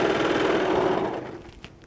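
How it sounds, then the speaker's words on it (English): A serger stitches fabric around the curves of a scrub cap with a loud, close, rapid mechanical whir. The whir runs for just over a second, then winds down and stops. "So don't be afraid of your serger. It's going to do a great job on that"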